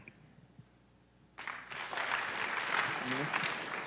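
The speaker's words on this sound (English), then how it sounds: "I want everybody in the room within 10 seconds to clap at the same time." A room full of people at a music education symposium claps together in one burst of applause that starts sharply after a quiet moment and then carries on as a dense, sustained wash of clapping.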